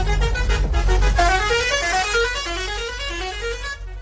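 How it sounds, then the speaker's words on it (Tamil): A bus horn blares loudly and continuously, with stacked harmonic tones holding steady before a second, bending tone pattern sweeps in, all close and dominant with no one talking. "கொஞ்ச நேரம் ஹார்ன் அடிக்காம இருங்க"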